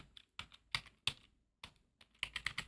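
Typing on a computer keyboard while entering text in Photoshop Elements, in several quick bursts of clicky keystrokes separated by short pauses, close and fairly quiet, with no talking.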